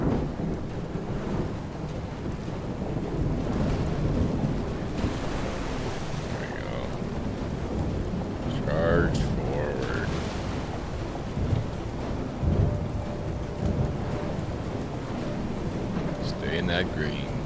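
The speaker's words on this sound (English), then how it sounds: "Maybe it got struck by lightning." Thunderstorm in the survival game FAR: Changing Tides, with steady rain and wind roaring throughout and low rumbling thunder swelling in the middle, a few brief synth tones rising above the storm.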